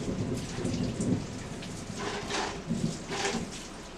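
Water splashes steadily over freshly dug sweet potatoes as they are rinsed outdoors, a continuous close hiss of spray with brief louder surges and no talk.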